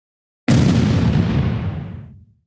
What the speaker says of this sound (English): The moment it crosses into the kill zone, the Ukrainian tank unleashes its fire.